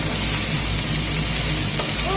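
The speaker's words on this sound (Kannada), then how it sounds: "ಇಲ್ಲಿ ಪೊಣ್ಣು ಫ್ರೈ ಆಗ್ತಾ ಇದೆ ಬ್ರೋಕೋಲಿ" Broccoli frying in hot oil in a pan gives a loud, steady, dense sizzle that holds without a break.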